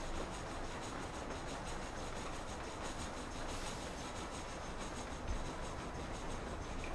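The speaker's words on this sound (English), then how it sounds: "John's gonna drive the train." A steam train runs along the rails in the video game Red Dead Redemption, producing a faint, steady rumbling rattle with a soft rhythmic clatter and no voices.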